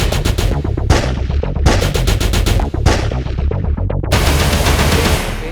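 Rapid bursts of gunshots fired at a shooting range during a shooting lesson, loud and close, coming in several fast volleys separated by brief pauses, with no talking.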